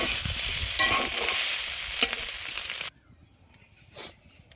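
Soybean chunks frying in a pan (kadai) and being stirred for a potato curry, a steady close sizzle with scraping strokes that stops abruptly partway through, leaving near silence with one faint brief rustle.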